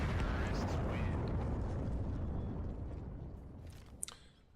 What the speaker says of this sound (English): the bomb finally detonates